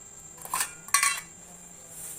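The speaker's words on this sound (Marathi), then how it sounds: "आता चमचे आणि डिश आलेले आहेत." Spoons and plates clink in a few brief, bright chinks, two short clusters close by over a quiet room, as dishes are handed out at a night-time Maggi noodle party.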